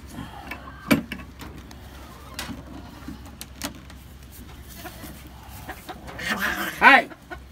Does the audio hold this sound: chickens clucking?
yes